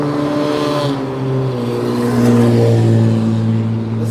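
A car engine revs on a bridge road at night, a loud, sustained low droning hum that swells and rises in pitch partway through, close by over steady traffic.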